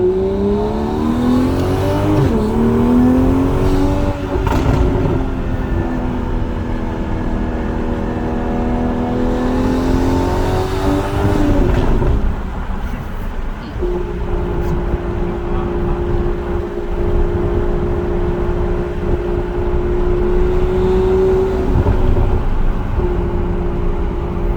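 A Toyota Supra A91 with a newly fitted aftermarket exhaust revs and accelerates loudly up close, pitch rising and falling through shifts before settling into a steady drone, with no talking.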